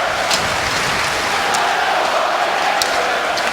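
A New York Rangers home-ice crowd at a playoff hockey game against the Flyers keeps up a continuous broad roar, with a few sharper bursts rising briefly above the wash of voices.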